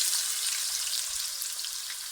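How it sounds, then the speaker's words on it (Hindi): Two large onions frying in very hot oil in a kadai, a steady bright sizzle and crackle throughout, close and fairly quiet, with no voices. "अब इन्हें तेज़ गरम ऑयल में डालेंगे।"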